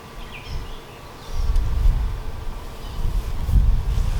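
Honeybees in an open hive during a frame-by-frame inspection, a faint low buzzing hum that swells in bursts under wind-like rumble, close to the microphone.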